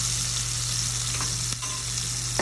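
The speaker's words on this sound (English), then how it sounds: "You want to get that nice sizzle." Loud, steady sizzling of onions and carrots frying in a hot pan, with a brief clink of a utensil partway through.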